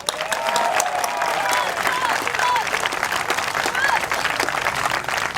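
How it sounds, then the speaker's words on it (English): A crowd at a Singaporeans First political rally at Chinese Garden applauds, dense sustained clapping from many people at close to middle distance, with voices and cheering mixed in. "Let's give him a clap."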